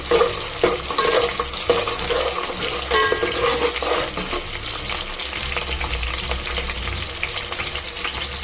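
Onions frying in hot oil for a vegetable biryani, a steady dense sizzle with scraping stirring throughout, close and fairly loud, with no talking.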